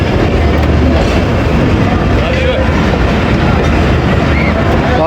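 The Baba Fareed Express pulling away from the Arifwala platform, heard from on board as a loud, steady rolling rumble with faint rhythmic wheel clatter and heavy wind buffeting the microphone.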